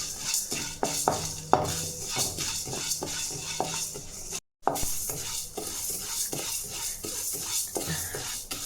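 Toor dal is dry-roasted for sambar powder in a pan, stirred with a utensil that scrapes and clinks against the metal in a quick, busy rhythm, close up, with a brief break midway and no speech.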